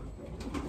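A racing pigeon in its loft gives a soft, low coo, brief and quiet against faint background hum.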